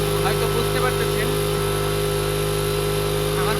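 A motorcycle engine running loudly with a steady close buzzing drone, while someone talks over it.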